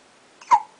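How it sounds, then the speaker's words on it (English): A baby gives a single soft hiccup, close by and brief, in an otherwise quiet moment with no talking. "Oh, you got hiccups."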